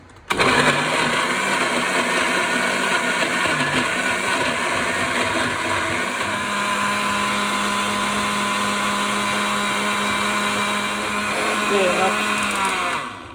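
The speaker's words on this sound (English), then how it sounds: "now everything is in a blender," A blender blending gazpacho runs loudly and continuously, its motor whirring and churning at a steady high pitch for over ten seconds before cutting off.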